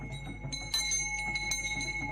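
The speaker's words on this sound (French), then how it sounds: "La cloche pour sonner l'arrivée des chefs Douala ici au musée national." A bell rings at the national museum in Douala to announce the arrival of the Douala chiefs. It sounds as a few bright, ringing strikes with sustained overtones at moderate level, heard alone without talk.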